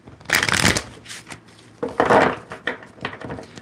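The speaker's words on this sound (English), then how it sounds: "Okay, one more shuffle for these energy cards." One more shuffle of tarot energy cards, close crisp riffling bursts with brief clattering pauses between them, heard alone in a quiet room.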